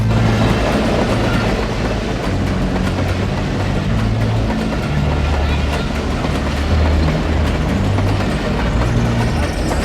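A train rolls steadily past, its loud rumble and rhythmic clickety-clack filling the scene from start to finish, with no voices on top.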